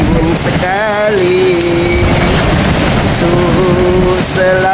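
Heavy rain pours steadily in Bogor, a dense hiss throughout, with a wavering, voice-like tonal sound drifting over it.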